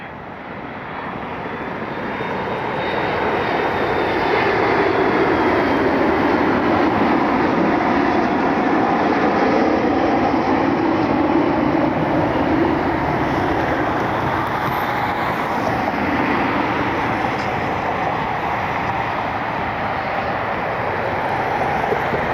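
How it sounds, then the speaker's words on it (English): A USA Jet MD-80 airliner arriving at Cleveland's airport swells from a distant rumble into a loud, sustained jet-engine roar that holds steady for around twenty seconds. "USA Jet 832 MD-80 inbound from Ypsilanti."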